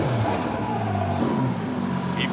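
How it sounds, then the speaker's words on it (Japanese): A freshly rebuilt race car engine fires up first try after the fuel pump and ignition are switched on, settling into a loud, steady idle with a low throbbing hum and no talking. "フューエルポンプオン、イグニッションオン、エンジンスタート。"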